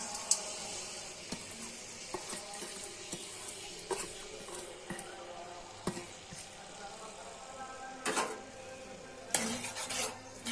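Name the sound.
onions stirred and fried in hot oil in a wok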